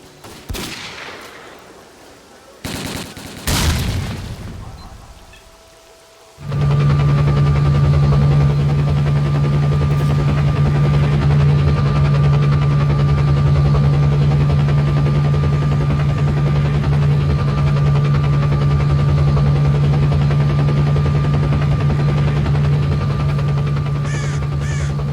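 Helicopter in the game STALKER: Call of Pripyat starting up for takeoff, opening with a few loud bangs before a heavy steady engine drone and rotor hum kicks in and holds loud and constant.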